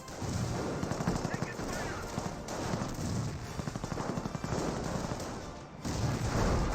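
Rapid bursts of rifle and machine-gun fire in a Company of Heroes battle, with a rifle grenade launched amid the shooting, dense rattling volleys continuing almost without pause, fairly loud, with background music and no clear talking.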